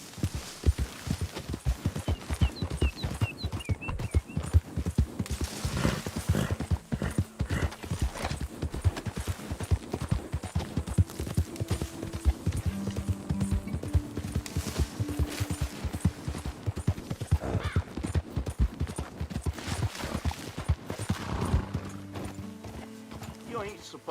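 Horse hooves gallop in a rapid, steady clip-clop throughout the Red Dead Redemption 2 video game, with a whinny and faint gunfire in the mix, and voices talk over it.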